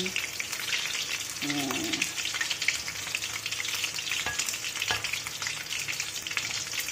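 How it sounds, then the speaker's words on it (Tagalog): Golden-brown fried chicken sizzles steadily in hot oil, a dense continuous crackle filling the whole stretch with no voices over it. "luto na yung ating fried chicken. Golden brown."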